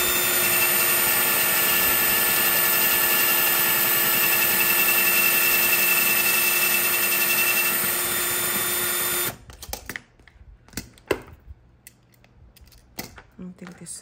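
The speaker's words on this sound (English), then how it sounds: "I'm just gonna start drilling this out." A steady, loud mechanical whine from an electric drill boring 25mm ring holes in a notebook runs continuously, then cuts off abruptly, leaving scattered clicks and handling noises.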